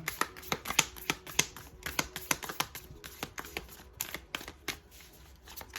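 Tarot cards shuffled by hand during a reading, giving a steady run of crisp, close slaps and riffles at an even rhythm, with no voices.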